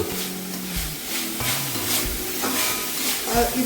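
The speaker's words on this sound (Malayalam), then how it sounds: "2 table spoon celery, 2 table spoon spring onion ഇട്ട് കൊടുക്കാം. ഇത് മിക്സ് ചെയ്യണം" Celery and spring onion are stir-fried in a pan for chicken fried rice, with a continuous close sizzle and soft stirring scrapes under a faint low hum.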